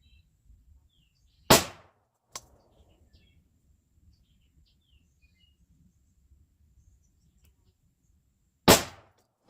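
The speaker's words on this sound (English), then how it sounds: "I just finished up zeroing, and it only took me 6 rounds." Robinson Armament XCR-L rifle fired at a range while zeroing: two sharp, loud shots several seconds apart, with a faint click between them and near-silence otherwise.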